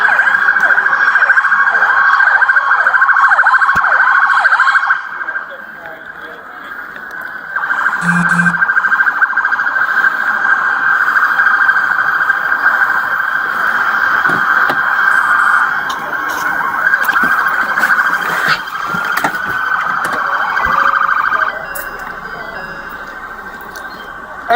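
An ambulance siren wails loud and close in a sustained, repeating tone, dipping briefly then returning, with scattered background noise and no clear speech.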